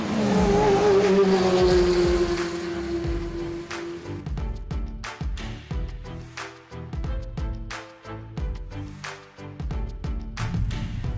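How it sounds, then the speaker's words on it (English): A 2017 Kia Rio hatchback with a 1.4-litre petrol engine drives along, its engine note rising steadily at first, then giving way to a continuous road and engine drone broken by frequent sharp clicks and knocks. "So we're driving the Kia Rio"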